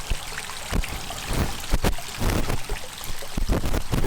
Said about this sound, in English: we have the waterfall coming down behind.